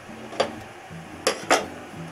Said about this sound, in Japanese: で取った骨は鍋に入れちゃう。